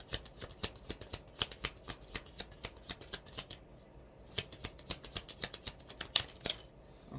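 Tarot cards are shuffled in quick, rhythmic flicking bursts, close and crisp, with a brief pause midway before the riffling resumes.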